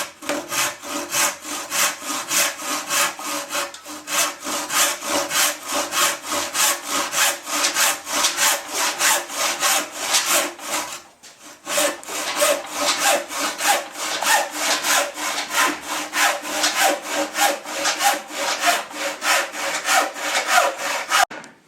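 A hand saw cuts a wooden felly for a cannon wheel in long, steady back-and-forth strokes, loud and close, pausing briefly midway before the rhythm resumes.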